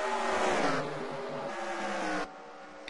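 NASCAR stock cars race at Dover in the 2015 AAA 400, a loud, dense roar of engines that swells and fades as cars pass, then drops off sharply near the end, with no talk.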